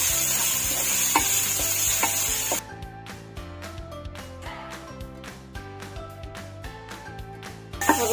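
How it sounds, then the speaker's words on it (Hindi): Grated onion fries in oil in a pan and is stirred, giving a dense close sizzle, then a series of sharp rhythmic scrapes and taps from the stirring, with no talking. "दोनों को थोड़ा सा भून लेंगे तेल के साथ"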